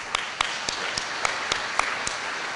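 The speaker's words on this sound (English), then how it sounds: "let's give these guys a round of our applause and thanks." An audience at a chamber of commerce legislative barbecue claps steadily, a short burst of applause with distinct individual claps.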